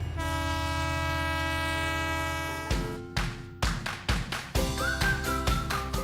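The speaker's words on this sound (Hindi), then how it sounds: "तो मैं अब आपको लोकल ट्रेन का सफर कराती हूँ" A Mumbai local train sounds a long, steady horn, then moves off with a run of loud rhythmic clacks and thumps from its wheels on the rails.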